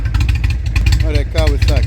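Indian motorcycle engine running close by with a loud, low, throbbing rumble that pulses steadily throughout, while a voice speaks briefly over it.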